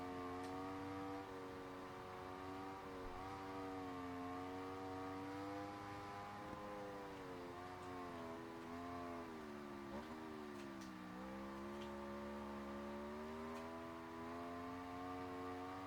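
Aprilia motorcycle engine in the racing game Ride 4 on a lap of Oulton Park, a steady, close, continuous whine that rises and falls with the revs through gear changes, with no pauses or voices.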